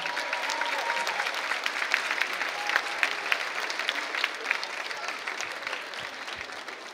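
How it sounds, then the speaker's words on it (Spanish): An audience at a school dance festival applauds steadily, a dense sustained wash of clapping with scattered sharper claps and faint crowd murmur throughout. "Un aplauso para el público también."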